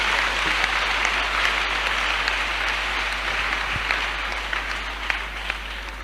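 A church congregation applauding, dense sustained clapping from many hands that stays even and loud throughout, with no voices over it.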